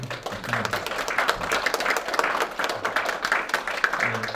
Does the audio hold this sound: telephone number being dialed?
no